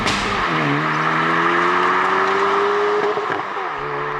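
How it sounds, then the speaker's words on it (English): Hyundai i30 N hot hatch engine revving loudly and continuously up through the range, with blipped rev-matching downshifts near the end, close and alone without talk. "Love the auto rev matching."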